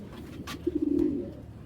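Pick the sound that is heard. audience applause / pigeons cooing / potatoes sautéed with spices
pigeons cooing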